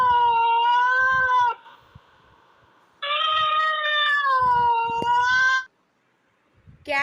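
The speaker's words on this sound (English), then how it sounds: "Cat." A cat gives two long, drawn-out meows, loud and close, each sustained for over a second with a wavering pitch, separated by a short pause.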